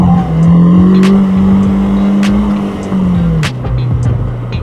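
A Polaris Slingshot R three-wheeler with a single rear tire, driven hard into power-induced oversteer: a loud, close engine drone holding a steady pitch, then dropping and rising again, with sharp bursts over it.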